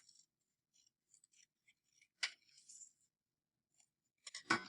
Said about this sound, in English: Now I'm going to cut out the words that I have.